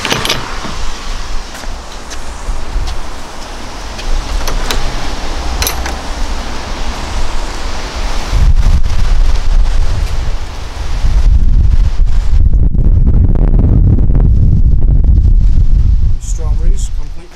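Strong gusty wind buffets a kitchen garden in late May, roaring and rumbling loudly against the microphone in surging waves, with a person speaking partly buried beneath the blustery noise.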